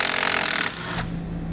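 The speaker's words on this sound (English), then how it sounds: "Remove the nut with a 10mm socket." A 10mm socket wrench loosens the nut on a car battery's negative post, giving a brief rapid ratcheting buzz that stops abruptly, followed by quieter handling.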